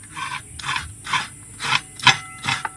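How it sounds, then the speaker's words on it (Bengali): A coconut being grated on an upright boti blade while preparing filling for bhapa pitha: six rhythmic rasping scrapes, each a short burst with brief pauses between, close and fairly loud. "নারকেলটা আমি কুড়িয়ে নেব এই বটির সাহায্যে"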